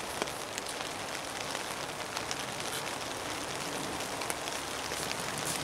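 Heavy rain pours down steadily outdoors, a dense, even hiss of drops close around with no pauses and no voices.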